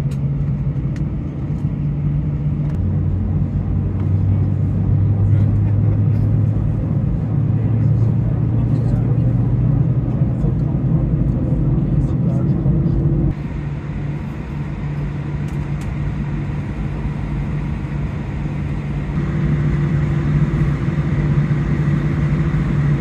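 Aer Lingus airliner cabin noise during takeoff on a Dusseldorf to Dublin flight, a loud, steady low rumble that shifts in pitch and level partway through, with voices at times over it.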